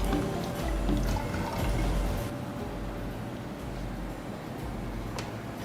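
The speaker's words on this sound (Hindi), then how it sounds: "तो सबसे पहले डालता हूँ इसमें पानी" Water pours steadily into a flask for an alcohol test kit, a continuous splashing trickle that eases slightly halfway through, with no talk.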